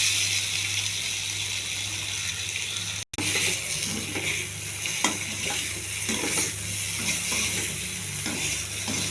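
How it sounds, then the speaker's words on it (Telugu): Soya paneer frying in oil in a pan, a loud, close, continuous sizzle with stirring scrapes, broken by one very brief dropout before the hissing resumes. "కొద్దిగా నూనె పోసి ఈ సోయా పన్నీర్ వేసేయాలి."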